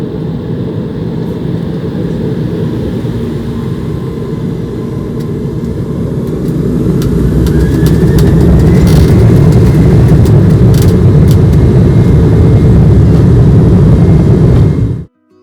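A British Airways Embraer E190 jet takes off, heard from inside the cabin as a steady, loud engine roar with broadband rumble that swells and intensifies midway through the run and holds strong until an abrupt end.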